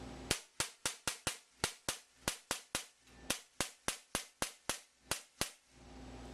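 An ASG CZ75 CO2 blowback airsoft pistol fired indoors in a cramped corner: about seventeen sharp, loud snapping shots in a steady rhythm, each with a quick mechanical clack, alone with no talk.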